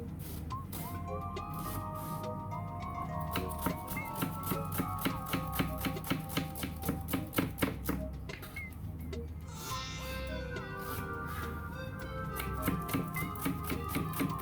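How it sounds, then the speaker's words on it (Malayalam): An onion is chopped into small cubes with a knife on a board: a quick, steady run of close, crisp taps that speeds up and pauses, with some speech at times alongside. "അപ്പോൾ നമുക്ക് ആദ്യം സബോള ഒരു ചെറിയ ക്യൂബ്സ് ആയിട്ട്, ഒത്തിരി വലിയ ക്യൂബ്സ് അല്ല, ചെറിയ ക്യൂബ്സ് ആയിട്ട് കട്ട് ചെയ്തെടുക്കാം"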